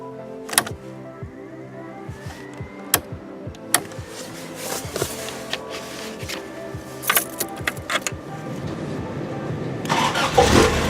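Toyota AE86 race car engine starting up: a few clicks and whirring, then the starter cranks and the engine catches, building into a loud, close, rough idle with no talking.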